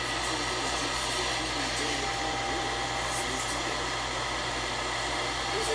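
Hot air rework station blowing a steady, wide-nozzle stream of heated air onto the CPU chip of an Apple A1286 laptop board, a constant close whooshing hiss with no breaks throughout.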